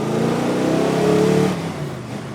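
A car engine held at roughly 3,500 to 4,000 RPM, a loud steady mid-pitched drone with a faint rising tone, easing off slightly near the end, with no talk over it.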